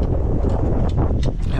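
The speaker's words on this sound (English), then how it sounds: "it's probably about 15-mile-per-hour wind out here, giving a gust" Gusty outdoor wind of about 15 miles per hour buffeting the microphone beside an old Kenworth cabover truck, a loud rumbling roar with brief swelling bursts.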